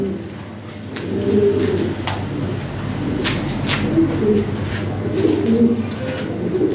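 Lahori pigeons coo continuously in a low, throaty warble, several overlapping calls rising and falling close by over steady background noise, with no talking.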